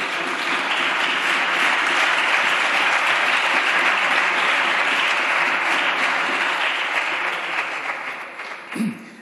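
A parliamentary chamber fills with sustained applause from many hands, loud and even for several seconds before thinning and fading near the end.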